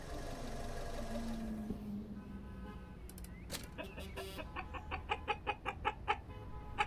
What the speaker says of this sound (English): your character just sounds like a chicken